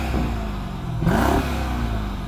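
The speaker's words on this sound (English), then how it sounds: "Would you like to cause some noise and exhaust pollution by revving up your V8?" A big V8 engine idles with a deep rumble, then briefly revs up with a rising roar before settling back to idle.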